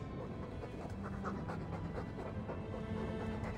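Continuous dog panting from Dragon Age 2, fast, even breaths repeating throughout at a steady, moderate loudness over a soft in-game background.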